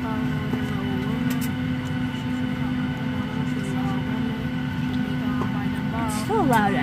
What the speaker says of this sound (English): So loud, I forgot how loud airplanes are.